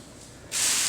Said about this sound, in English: Make sure you spray the whole thing down.